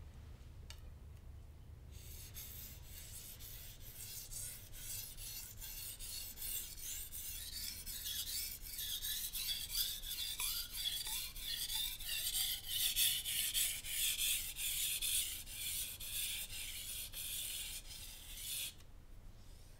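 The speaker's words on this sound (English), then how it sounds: "the key thing is not applying a lot of pressure on the knife as you are transitioning, or really just during any sort of sharpening process" A slicer knife drawn in steady repeated strokes across a whetstone, producing a continuous close rasping scrape that swells slightly in the middle, with no talking.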